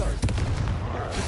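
Confringo blasting spell cast in the video game Hogwarts Legacy: a loud, near explosive burst with a sharp initial crack and booming low rumble, over continuous combat background noise.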